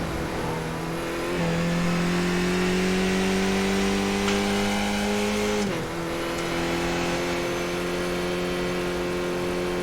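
Onboard at Road Atlanta, a race car engine drones steadily on an out lap. The loud, sustained tone climbs slightly as the car accelerates, then drops with a gear change about halfway through.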